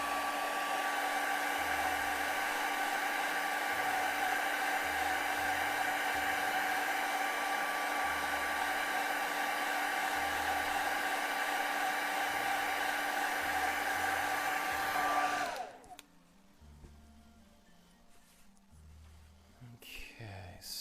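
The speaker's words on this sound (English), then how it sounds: "I'm going to hit it with the hairdryer" A hair dryer blows with a steady whine for about fifteen seconds, then cuts off, leaving quiet room sounds and a few soft knocks.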